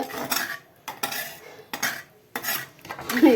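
Fried banana stem is added to a pot of curry, heard as four separate bursts of close, loud metallic clatter and stirring with short quiet gaps between them.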